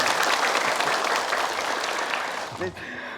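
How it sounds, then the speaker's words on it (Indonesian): TV studio audience applause on an Indonesian religious talk show, a dense burst of clapping that tails off as a voice cuts in near the end. "Boleh tepuk tangan"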